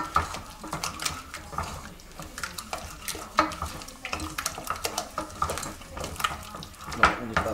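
A spoon or spatula stirs eggs into a thick choux pastry dough for pommes dauphine in a pot, giving repeated wet slaps and scrapes with occasional clinks of utensil on the pot.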